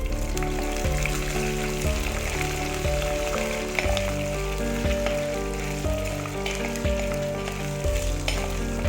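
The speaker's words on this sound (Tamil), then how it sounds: "இஞ்சி பூண்டு ஒரு 3 மினிட்ஸ் சிம்லேயே வச்சு வதக்கிடுங்க." Chopped garlic and ginger sauté on low heat in a pan for mudakathan keerai chutney, giving a steady, close sizzle with occasional scraping stirs and no talk.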